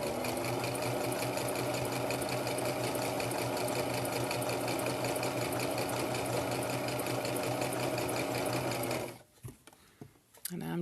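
Sewing machine stitching fleece fabric for a neck warmer, running in a steady continuous whirring hum for about nine seconds before stopping abruptly, followed by a few soft handling clicks.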